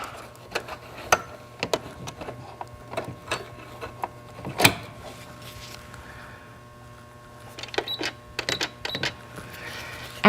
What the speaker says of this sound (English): We're going to be using a regular foot, which I'll install here quickly.